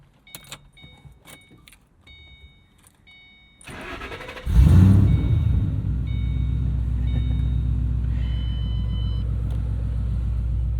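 A 2007 Ford Mustang Shelby GT, an S197 with a V8 and five-speed, has its keys jangling before the engine cranks and fires loudly, settling into a deep, steady rumbling idle up close.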